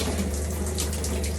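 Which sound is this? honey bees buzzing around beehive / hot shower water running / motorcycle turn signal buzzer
hot shower water running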